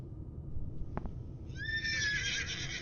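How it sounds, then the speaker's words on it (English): A horse neighs from a Deadlands: Blood and Dust tabletop session's soundtrack, preceded by a couple of faint clip-clop knocks, then a clear, fairly distant whinny lasting over a second against a low steady background. "Did I hear a horse neigh?"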